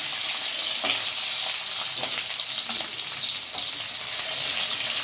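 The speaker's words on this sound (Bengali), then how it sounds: "ক্যাপসিকাম ভাজতে একটু সময় লাগে, তাই আমি ক্যাপসিকামগুলোই প্রথমে দিলাম।" Chopped capsicum fries in a pan for chilli chicken, a dense, continuous sizzle with soft stirring scrapes, close and fairly loud, no voices.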